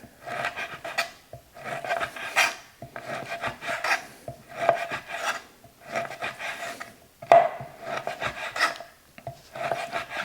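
A knife slices dry sausages thin on a wooden board, two at a time, giving a steady series of close, rasping cuts in regular bursts with brief pauses between strokes.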